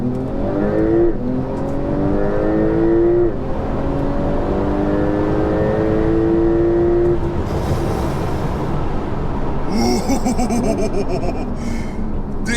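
A Porsche 911 Turbo S accelerates hard in a loud run of rising engine pitch, dropping on each gearshift and climbing again, with a sharp clattering burst near the end.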